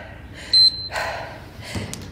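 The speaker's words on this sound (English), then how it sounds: "we use these to keep our time and to keep us on track because the beep keeps us going" A Gymboss interval timer gives one short, sharp high beep during a HIIT workout circuit. Soft breathing and movement noises follow it.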